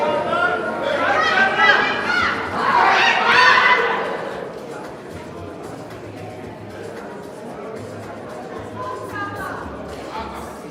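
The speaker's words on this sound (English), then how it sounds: "The crowd is becoming loud" A loud crowd at youth karate finals roars and cheers, swelling to a peak early on, then settles into a lower murmur with a brief renewed burst near the end.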